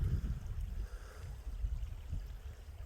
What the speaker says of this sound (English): But there's the creek. It's not real big,